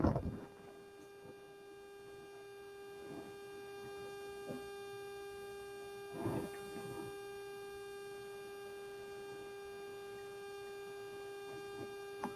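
Embroidery machine just switched back on, giving a steady tonal electrical hum with a few faint clicks and bumps, quiet and continuous throughout.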